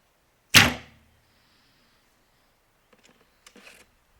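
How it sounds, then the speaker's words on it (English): A single sharp, loud whack as an arrow is loosed from a 2021 Win and Win Black Elk recurve bow, followed by a quick decay and faint clicks and rustles a few seconds later. "I'm hearing it whack, but I think that's the arrow."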